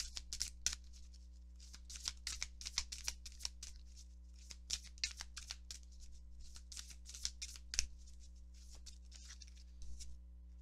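Oracle cards are shuffled by hand in quick, soft papery riffles and flicks, close and continuous over a low electrical hum, with no talking.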